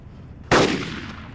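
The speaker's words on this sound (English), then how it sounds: "I can hear two of them shooting." A single loud, close gunshot in the video game DayZ (Arma 2 mod), a sharp crack with a decaying echo, followed by the onset of another shot at the end.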